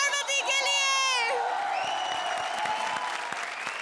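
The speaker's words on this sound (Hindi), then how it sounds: "जोरदार तालियां कपिल और पार्वती के लिए" A sustained sung voice fades into a burst of studio audience applause and cheering on a comedy show stage, loud dense clapping mixed with shouts and whoops that carries on to the end.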